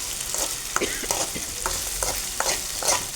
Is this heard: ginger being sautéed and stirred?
yes